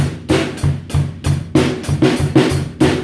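A drum kit plays the "$1 million beat", a busy groove of kick and snare hits over hi-hat. The strokes are punchy, close and evenly spaced, with no voices.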